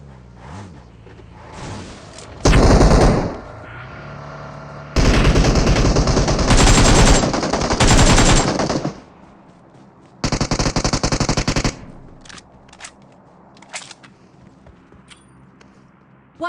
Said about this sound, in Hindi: तभी आगे की साइड से फायर आता है।